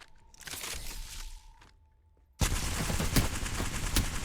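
Automatic weapon fire in the battle-royale shooter Apex Legends, a rapid sustained burst of loud close shots that cuts in abruptly after a quieter stretch of faint gunfire and footsteps.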